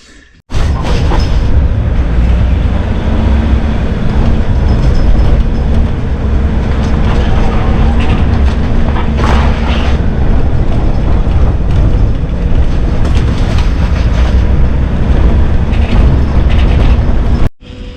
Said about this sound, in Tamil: வண்டியை கிளம்ப போகிறாரு இப்போ தான்